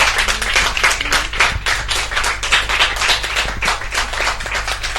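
Audience clapping during a French television broadcast, loud and steady with dense overlapping claps lasting throughout, close and full.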